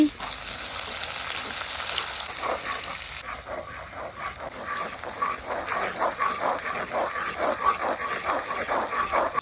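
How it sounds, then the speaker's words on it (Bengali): Chopped onions frying in oil with five-spice and dried red chillies for a Bengali fish-head and Malabar spinach dish, a steady close sizzle with a brief soft voice and faint yips in the background. "ওই তেলে পাঁচ ফোড়ন এবং শুকনো লঙ্কা ফোড়ন দিয়ে পেঁয়াজ কুচি দিয়ে ভেজে"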